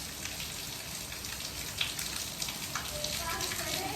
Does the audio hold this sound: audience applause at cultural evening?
no